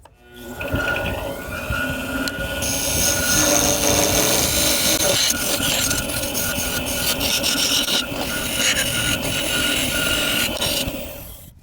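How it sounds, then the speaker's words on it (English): A narrow gouge cuts the bottom of a firewood bud vase spinning on a wood lathe, giving a loud, continuous scraping and rumbling hum that swells and shifts in pitch as the tool works, with no speech. "I'm going to work on the bottom over here, which means I need a very narrow gouge"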